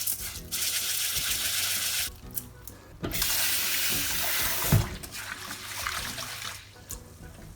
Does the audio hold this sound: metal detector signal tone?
no